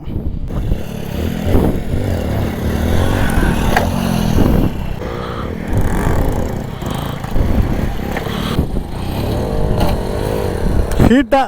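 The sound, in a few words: CT 100 motorcycle engine revving during wheelie practice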